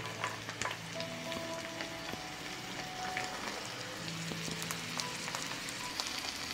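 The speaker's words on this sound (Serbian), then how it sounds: "Promešat ću i propržiti još koji minut." Steady crackling sizzle of vegetables frying in a pan, with occasional scrapes and clinks of stirring, no voices.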